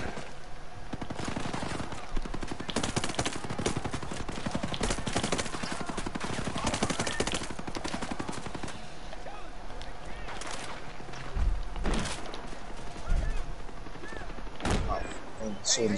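Rapid bursts of automatic gunfire and scattered single shots crackle through a Ghost Recon Breakpoint firefight, dense and continuous across the whole stretch, with voices talking over the shooting.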